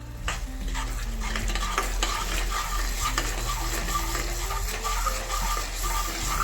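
Chillies frying in oil in a pan for homemade Schezwan chutney give a loud, continuous sizzle, with occasional stirring clinks and scrapes close up and no talking.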